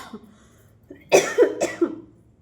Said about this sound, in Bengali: আমার যা কাশি শুরু হয়ে গেছে না